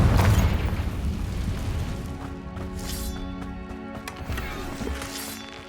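A Confringo fire spell blast in Hogwarts Legacy: a loud, deep boom rolls out at the start and trails off into a sustained rumble under layered game music and effects.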